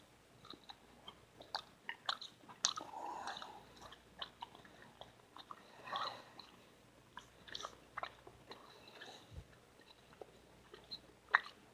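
Crunchy chewing and biting on smoked beef heart topped with homemade mayonnaise and mustard, close and quiet, with irregular bites and soft mouth sounds spread over several seconds and no talking.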